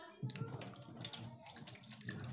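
Water running from a tap over peeled turmeric as it is washed, a steady splashing flow close by with a voice faintly underneath.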